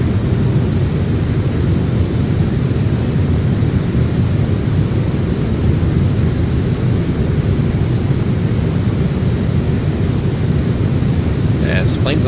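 A Boeing 727-200F climbing out after takeoff in a flight simulator gives a steady, loud, broadband engine roar with a low rumble that holds unchanged throughout.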